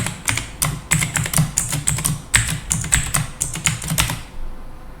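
Rapid clicking keystrokes on a computer keyboard as a password is typed to log into a server, in uneven bursts up close, then stopping.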